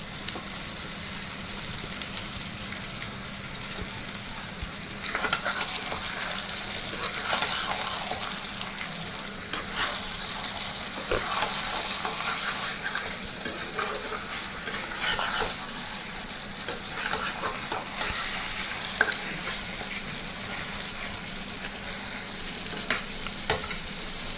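Pieces of goat liver and stomach frying with onions in a pan in a village kitchen, a steady loud sizzle with repeated scraping and stirring strokes throughout, no talking.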